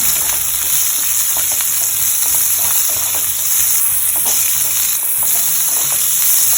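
Onion with curry leaves and mustard seeds frying in a pan for a Tulu-style dry prawn chutney, giving a steady, loud sizzle with intermittent stirring scrapes throughout.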